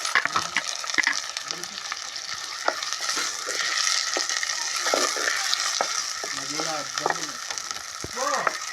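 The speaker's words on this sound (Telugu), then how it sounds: "మీడియం సైజు ఉల్లిపాయలు 4 వేస్తున్నానండి." Four medium onions and green chillies frying in a pan for a mushroom curry, with a steady close sizzle and repeated scraping and clatter of a spoon stirring throughout.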